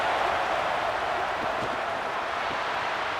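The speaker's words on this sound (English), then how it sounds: "this crowd is fired up. Listen to this noise here" Stadium crowd cheering in the College Football 27 video game during a Texas versus Tennessee matchup: a dense, continuous roar of many voices, loud and unbroken throughout, with no commentary over it.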